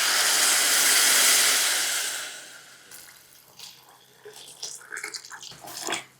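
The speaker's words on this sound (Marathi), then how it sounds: "1 कप अख्खा मसूर आहे तर 3 कप गरम पाणी आपण यामध्ये घालणार आहोत" Hot water poured into a pot of whole masoor lentils, a loud rushing pour for about two seconds that tapers off into light splashes and clinks.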